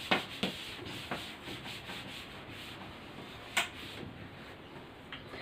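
Writing being rubbed off a classroom board during a chemistry lesson, a soft continuous rubbing swish with several brief sharp taps, heard alone at a low level.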